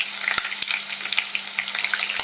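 Chicken 65 pieces deep frying in hot oil during a double-fry, a steady close crackling sizzle with scattered pops and sharp spatter bursts, no talking.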